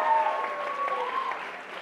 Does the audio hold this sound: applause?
yes